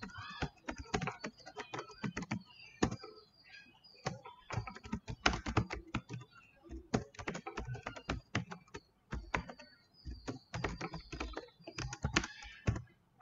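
Typing on a computer keyboard during a desktop publishing lesson, close and clear, with bursts of rapid keystrokes separated by short pauses and no talking.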